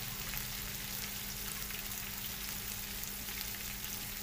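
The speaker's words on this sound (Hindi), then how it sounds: "अब इसके अंदर हम स्पाइसेस डालेंगे" Spices sizzle and crackle in hot oil for chana pulao, a continuous dense frying hiss that stays close and steady for a few seconds.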